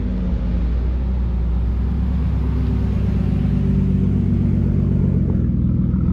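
A Nissan Skyline R33 pulls up at a car meet, its engine a steady, loud low rumble that holds close and even throughout, with no voices over it.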